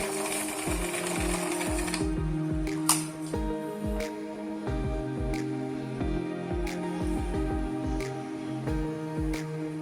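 An Epson L120 inkjet printer mechanism whirs and clicks in a steady, repeating rhythm, with quick mechanical pulses close up and a continuous motor hum underneath; the printer has a steady red light and blinking green light fault.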